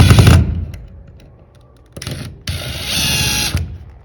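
A power drill drives screws while an electrical outlet is installed, giving short, loud whirring bursts separated by pauses, close by, with no talk.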